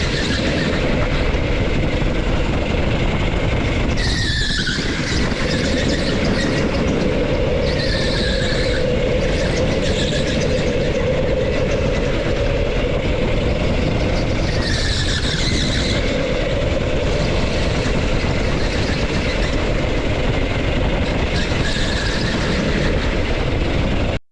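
Go-kart on a K1 Speed indoor track during a qualifying lap: a steady, loud electric motor drone runs throughout, broken by repeated high-pitched tire squeals through the corners, with no talking.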